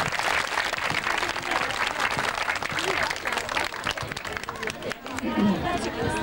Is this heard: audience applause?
yes